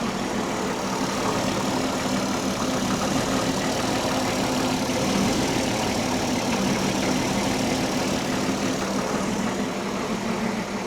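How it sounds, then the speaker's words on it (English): An old Ford Mustang engine idles steadily nearby in a continuous, rough rumble that seems to rise and fall slightly as it surges, with no one speaking. "But it sounds like she's kind of surging."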